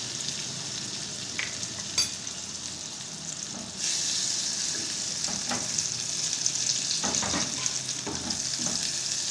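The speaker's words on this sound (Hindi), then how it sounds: "अब इसमें मैं मक्खन डालूंगी। मक्खन को मेल्ट करेंगे।" Butter melting in a pan over low heat for white sauce pasta, a soft steady hiss that grows fuller partway through, with a few light utensil taps.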